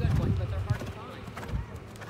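Horse hooves thud in a loose clip-clop rhythm at a show jumping arena, moderately close, with people talking over them.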